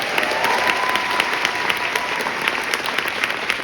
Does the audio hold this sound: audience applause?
yes